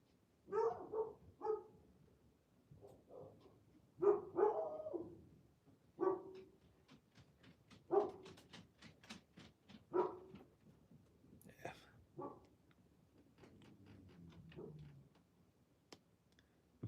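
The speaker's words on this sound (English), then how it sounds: "Sorry if the dogs are barking." Dogs barking outdoors at a distance in short repeated bursts, spread through the stretch, with a soft steady ticking running beneath them.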